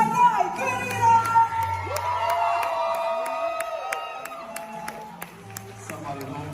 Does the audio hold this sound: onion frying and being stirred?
no